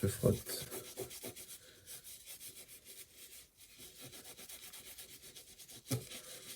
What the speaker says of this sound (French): Donc je frotte, hein, je frotte.